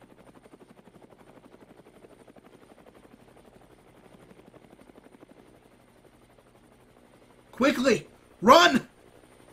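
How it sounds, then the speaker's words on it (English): A helicopter from the Nexus forces, heard in a movie scene as a low, steady rotor rumble that persists under quiet dialogue, followed by two loud shouted calls near the end. "Nexus helicopter!"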